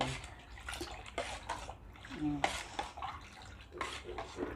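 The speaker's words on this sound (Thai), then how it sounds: "อันนี้ใส่กะทิลงไป ใส่กะทิลงไป ใส่หมดเลย" Coconut milk poured into batter for old-style Thai khanom khrok in a home kitchen, a soft liquid splash amid clinks of pots and utensils, close and moderately loud.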